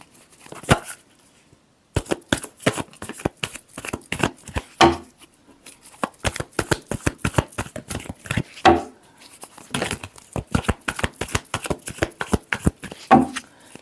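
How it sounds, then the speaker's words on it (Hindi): Tarot cards being shuffled by hand in quick, irregular bursts of crisp riffling and slapping, with brief pauses between runs, close and fairly loud. "Last shuffle."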